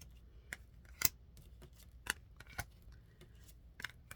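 Two decks of cards being handled and laid one on top of another for a double reading, giving soft, sparse clicks and snaps at irregular intervals against a quiet background.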